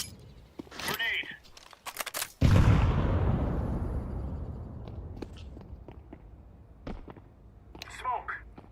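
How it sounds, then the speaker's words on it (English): A single heavy grenade explosion in a video game shooter booms suddenly and loudly, then rumbles down over several seconds, with clicks, footsteps and voices around it. "Grenade."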